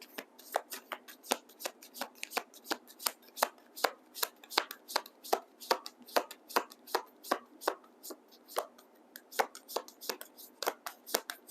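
Heart-shaped oracle cards are shuffled by hand in a steady run of crisp, close riffling snaps, dozens of quick soft clicks repeating rhythmically with no talk.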